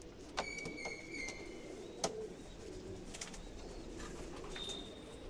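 Pigeons coo softly in a fancier's loft, a low murmuring call running through the clip alongside a few brighter chirps from other birds and one sharp knock.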